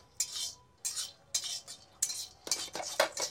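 Almonds, raisins and cardamom pods stirred in a hot dry wok: repeated bright metallic scrapes and light rattling in short bursts, close and fairly clear, with no talking.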